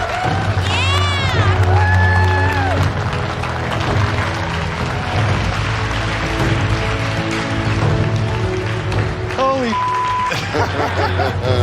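Competitors in the MasterChef kitchen cheer and whoop loudly as a crowd, a steady roar of excited voices with laughter and shouts running throughout, over background music.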